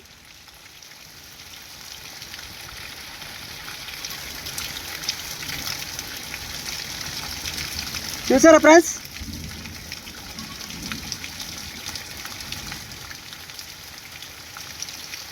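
Heavy wind-driven rain makes a steady broadband wash throughout, with a person speaking briefly over it partway through.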